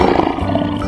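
A lion roars in a dense, rough, continuous burst that fills the whole short moment, loud and close, with no talking over it.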